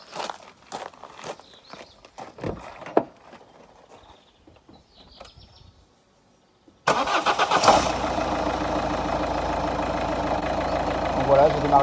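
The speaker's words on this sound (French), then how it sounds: "j'ai démarré mon véhicule" A car is started with a Topdon JS1200 jump starter booster: after scattered handling clicks, footsteps and a short silence, the engine catches abruptly and runs at a steady, loud idle until the end.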